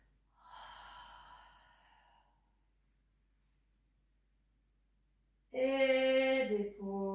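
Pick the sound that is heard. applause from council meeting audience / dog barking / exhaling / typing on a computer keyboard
exhaling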